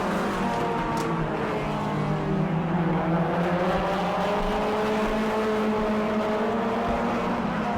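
Race cars roar around a dirt oval track at a season opener in Auburndale, a dense, continuous engine drone with shifting pitches from several cars, heard without talk.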